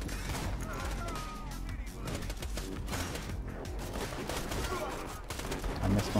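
Gunfire in the video game Borderlands 2, dense bursts of shots and rapid automatic fire running throughout at steady loudness, mixed with game sounds and voices talking.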